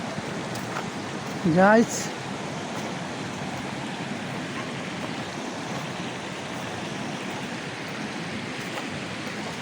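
The Marudi river flows over rounded stones in a steady broadband rush, close and continuous, with a short louder burst early on and a voice speaking briefly at the start.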